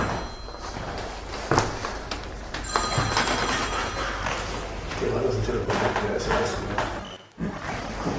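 A mobile phone rings during a seminar in Frankfurt, its tone sounding through room noise, thumps and shuffling as people talk in German.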